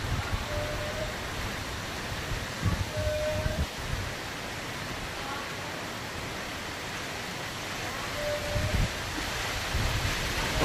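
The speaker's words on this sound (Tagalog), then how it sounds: "Pabugso-bugso yung hangin." Loud, broadband gusty wind from a typhoon roars steadily with rushing buffeting against the microphone, rising and falling in gusts throughout, in Las Piñas City, Philippines.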